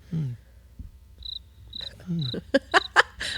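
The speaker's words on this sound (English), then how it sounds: "crickets in post on that one" Cricket chirps dropped into a podcast as a post-production sound effect, short high trills repeating in a sparse pattern, with brief laughs and speech fragments mixed around them.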